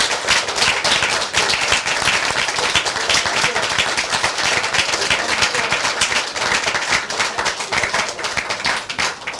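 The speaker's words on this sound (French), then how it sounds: "je demande dans un même élan d'applaudir le président, le secrétaire trésorier et notre doyen, M. Verlinden." An audience applauds at the 30th anniversary celebration of the Damier Ixellois draughts club in Ixelles. The clapping is loud, dense and sustained, with no pause for the whole stretch.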